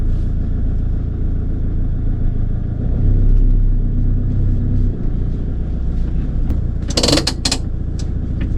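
A 2020 Font Vendôme Rando camper van reverses with a steady low engine rumble that swells briefly. A few creaks and clattering knocks follow near the end.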